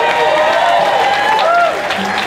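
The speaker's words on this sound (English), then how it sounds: "give him another round of applause" Audience applause for a fiddle contestant at the Hallettsville Fiddlers Frolics, a short steady burst of clapping from a hall crowd with voices mixed in.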